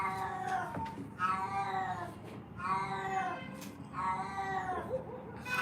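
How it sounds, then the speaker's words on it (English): A pet cat meows repeatedly, four drawn-out, rising-and-falling meows close to the microphone, each separated by a brief pause, with faint background noise. "Sorry guys, that's just my cat"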